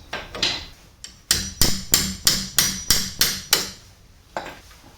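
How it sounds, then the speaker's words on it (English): Repeated metallic strikes while loosening a 14 mm brake caliper bolt on a 2016 Hyundai Veloster Turbo, about a dozen sharp, evenly spaced impacts in a quick burst, close and loud. "So this is a nut number 14, and we're gonna take off this bolt."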